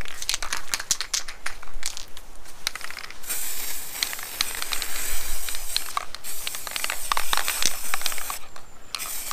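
Aerosol paint sprayed in bursts onto a routed hardwood house sign, a steady close hiss broken by short pauses and faint can rattles across the stretch.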